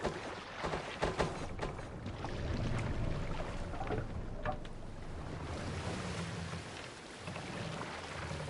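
A Viking longship sails out across open water in Assassin's Creed Valhalla, with steady rushing waves and wind-like surf noise, occasional splashes and creaks, loud and continuous with no talking.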